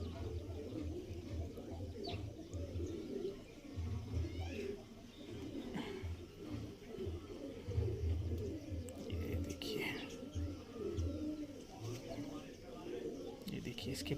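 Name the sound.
Madrasi pigeon cooing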